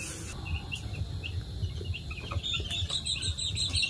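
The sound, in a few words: chicks chirping on a poultry farm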